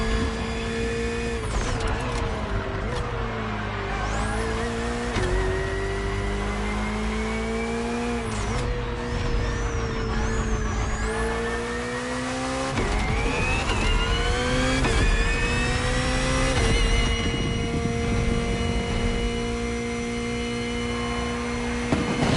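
Hybrid V8 race car in The Crew Motorfest, its engine droning steadily with rising and falling revs across repeated gear shifts, loud and continuous with no talk.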